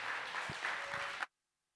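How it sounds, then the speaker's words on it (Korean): Church congregation applauding as a missionary comes forward to preach at a Sunday service, a brief burst of steady clapping that cuts off abruptly. "우리 선교사님 나오실 때 큰 박수 부탁드립니다."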